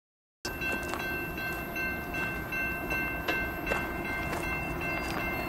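Freight train rumbling along tracks near Whitefish Lake as it approaches, a steady low roar with faint clicks and a thin high tone sustained throughout, no talking.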